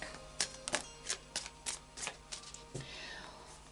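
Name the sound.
shuffling a Wildwood tarot card deck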